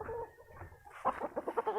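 Golden monkey gamefowl rooster clucking close by in a small backyard coop, a string of short rhythmic clucks rising in the second half after softer low murmurs.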